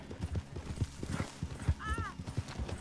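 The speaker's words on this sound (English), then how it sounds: "Can jump on my horse, Big J." Horse hooves clip-clop in a quick rhythmic gait in Red Dead Redemption 2 online, with a brief whinny partway through, moderately close and fairly quiet.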